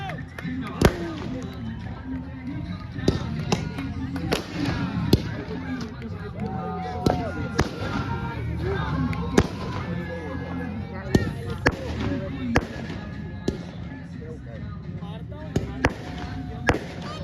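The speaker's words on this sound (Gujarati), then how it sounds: "ફટાકડા છે ગાઈસ ત્યાં" Firecrackers set off to celebrate India's cricket final win over Australia: sharp pops and cracks burst at irregular intervals, some near and loud, mixed with people talking and shouting in the background.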